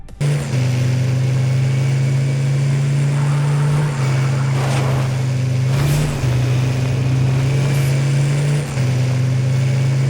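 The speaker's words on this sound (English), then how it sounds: "The engine is really loud, like probably louder than getting hit by a railgun." A ute's engine in Fortnite drones loud and steady at a low pitch, with brief shifts in tone around the middle and near the end, alone with no talk.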